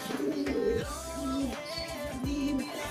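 A pigeon coos in low, repeated hooting calls, fairly close, with a faint background hum and no talking.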